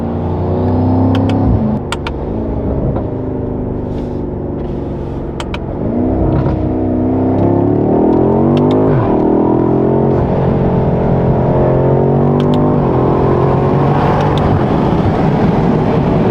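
Stock BMW M5 sedan engine revving hard under acceleration, loud and close from inside the car, with rising and falling engine pitch through several gear changes over the whole stretch.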